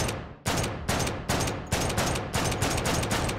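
Loud, dense gunfire from a gun in the virtual reality shooter H3VR, a rapid continuous fusillade of closely spaced shots, close up and without talking.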